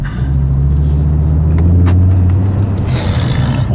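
A car pulls away hard from a standstill in dynamic drive mode, its loud engine rumble surging steadily from inside the cabin, with a brief hiss of air near the end.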